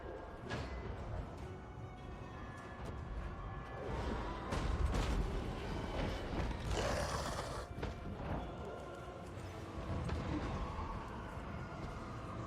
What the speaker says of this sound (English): we can just have them fire over the walls like normal